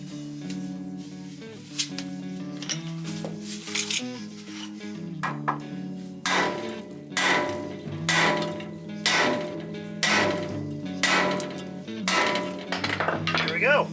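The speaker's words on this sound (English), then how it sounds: "So I'm going to go grab my 4-pound mini sledge and give it a couple smacks." A 4-pound mini sledge hammer strikes a steel tie rod ball joint on a C20 truck, a series of sharp metallic smacks ringing out in a fairly steady rhythm, close and loud, after some quieter clinking.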